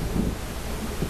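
Low, rolling rumble of distant thunder from an approaching storm in the video game Alan Wake, a steady dull roar with no voices.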